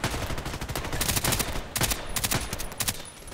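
Automatic fire from a VSS Vintorez in a video game comes as rapid bursts of suppressed shots over busy game noise, with several clusters of quick reports spread across a few seconds.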